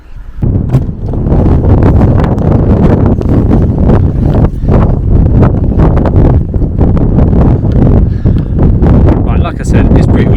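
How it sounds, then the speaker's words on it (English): Strong wind of about 20 mph with gusts of 35-40 mph buffets loudly and continuously on a motorhome roof, roaring across the microphone, while a voice speaks faintly underneath. "it's like 20-mile-an-hour winds with gusts of about 35-40 miles an hour"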